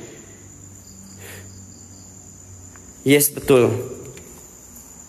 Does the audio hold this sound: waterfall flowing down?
no